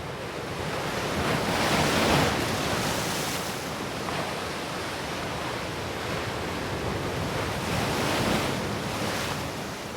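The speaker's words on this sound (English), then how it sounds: "watching surf pounding in." Surf pounds steadily onto a rocky coastline near Shek O in Hong Kong, a loud, continuous roar of breaking waves with gusty wind buffeting the microphone and no voices.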